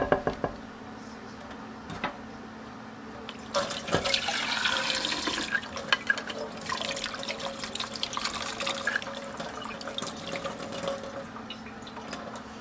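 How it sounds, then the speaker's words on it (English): Water pours from a bowl into a jar holding bones, starting as a soft trickle and then splashing in a steady stream for several seconds, fairly quiet and close. "So I'm going to go ahead and pour the rest of this into the bone water."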